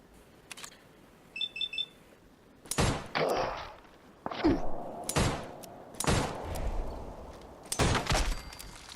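Gunfire in the Fallout 4 game: sharp, loud shots in irregular bursts as raiders are felled, each crack trailing a short ringing tail, with a few brief electronic beeps early on.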